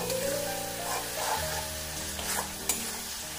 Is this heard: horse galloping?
no